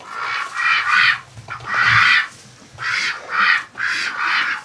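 Muscovy ducks squawk repeatedly on a cold farm, harsh loud calls in four or five separate bursts with brief quiet gaps between them.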